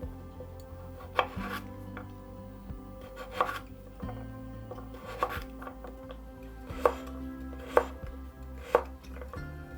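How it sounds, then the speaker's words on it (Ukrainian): Knife chopping carrots into half-rings on a cutting board for pilaf, with a steady series of sharp, close chops and quiet scraping between them. "Нарізаю моркву півкільцями."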